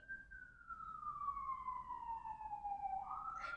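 A single siren wails in the distance, its tone sliding slowly downward and then rising again, faint against quiet background noise.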